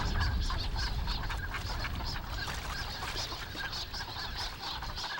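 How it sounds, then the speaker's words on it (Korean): A flock of migratory birds returning to Bamseom island in the Han River, Seoul, honks repeatedly in overlapping calls, a dense continuous chorus at moderate distance. "새들은 적게는 10마리에서 많게는 수십 마리씩 무리를 지어 밤섬으로 돌아온다."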